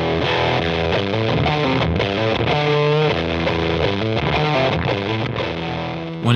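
An electric guitar runs through a Catalinbread StarCrash fuzz pedal with the bias set at noon, the classic Fuzz Face point. The fuzzy distorted notes and chords play continuously, thick and saturated, with a loud steady level throughout.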